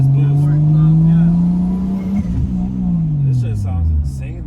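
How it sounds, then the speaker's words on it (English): A big-turbo Toyota Supra with a 2JZ engine revs hard under boost, its loud drone climbing and falling through the gears, heard close from inside the car while people talk over it. "So I feel like with the 2J, you hear like more boost."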